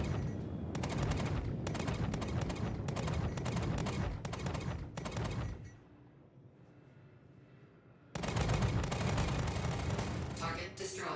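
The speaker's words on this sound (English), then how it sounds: "The NPCs have resorted to spamming missiles." Rapid, repeated missile fire from non-player enemies in a video game, loud dense bursts of launches and blasts that pause briefly midway before resuming at full intensity.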